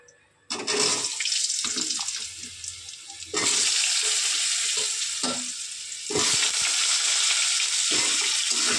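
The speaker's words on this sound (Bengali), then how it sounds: "আলুটা একটু লাল লাল করে ভেজে নেব।" Potato pieces dropped into hot oil with cumin after frying eggs, bursting into loud, dense sizzling that swells in waves as the pan is stirred, continuous and close.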